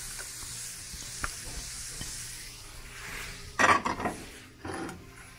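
Onions frying in a pan heated hotter than usual, a steady soft sizzle running throughout, with a few louder scraping stirs near the end.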